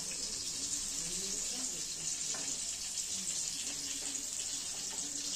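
Mustard seeds, green chilli and curry leaves sizzling in hot oil for chire pulao, a steady close hiss like running water that holds level throughout, with faint speech in the background.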